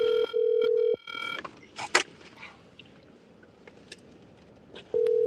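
A steady telephone tone sounds while a call is placed, a loud, even hum at the start that breaks off. Quiet background noise and faint talk follow before the tone returns at the end.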